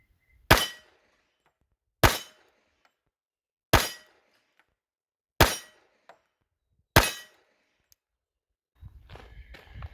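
.45 pistol rounds strike steel targets in five sharp, loud shots with ringing tails, spaced about one and a half seconds apart, followed by faint rustling.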